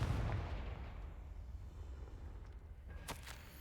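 The Confringo spell in the Hogwarts Legacy video game goes off as a deep booming blast that rumbles and decays over a few seconds, followed by a couple of brief crackling bursts.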